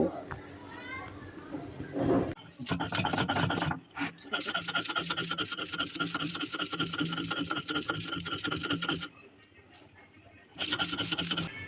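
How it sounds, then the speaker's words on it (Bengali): Fried shrimp being ground by hand on a stone grinding slab, a steady rapid run of rasping, scraping strokes close up, briefly pausing near the start and again near the end. "এখন আমি প্রথমে চিংড়ি মাছগুলি বেটে নেব"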